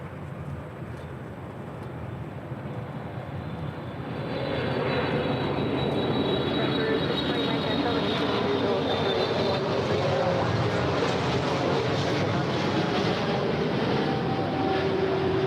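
A Lufthansa heavy airliner landing on runway 24 right at LAX: a steady, loud broad jet roar that swells after a few seconds and holds, with a faint whining tone over it and no talk.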